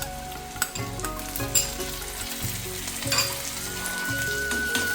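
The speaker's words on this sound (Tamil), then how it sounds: "சின்ன வெங்காயம் போட்டிருக்கிறேன்ல, அது போட்டுக்கலாம். கருவேப்பிலையும் போட்டுக்கலாம்." Shallots, garlic and curry leaves frying in hot oil in a pan crackle and sizzle loudly and close, with scattered sharp pops and spoon scrapes over the steady hiss.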